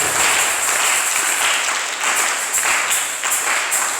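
A church congregation applauds and cheers in acclaim of Jesus during a Sunday service, sustained loud clapping from a full room with scattered voices.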